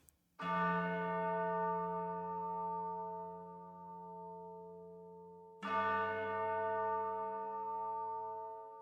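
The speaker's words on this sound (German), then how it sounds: "Wir haben hier sehr prominent natürlich ja, die Bells, also die Tubular Bells" Two deep, ringing tubular bell strikes in an orchestral composition, the first near the start and the second about five seconds later, each sustaining with a long shimmering decay.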